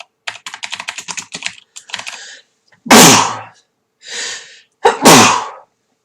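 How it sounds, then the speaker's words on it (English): One loud sneeze bursts out after rapid computer keyboard typing, followed by a second sharp sneeze-like burst, close and clear in a quiet room. "I'm going to sneeze."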